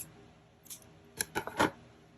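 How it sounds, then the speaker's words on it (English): Scissors snipping yarn at a crochet table, a few quick crisp clicks bunched together near the end, close and quiet with no talking. "Cut your yarn,"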